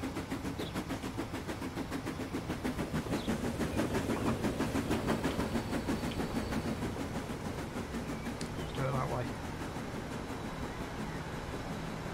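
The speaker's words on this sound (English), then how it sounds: "I'm going to get a train coming in, aren't I?" A train rolls into a station in the Transport Fever 2 game set in the UK, a steady rumbling rail and engine drone with faint clacks building slightly and then holding level, with no talk over it.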